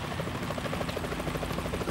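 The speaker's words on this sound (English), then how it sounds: "Is that a chopper I just heard?" Helicopter in the video game Metal Gear Solid 2 heard in a steady, close rotor chop, a continuous rhythmic thudding and whir that holds level with no voices over it.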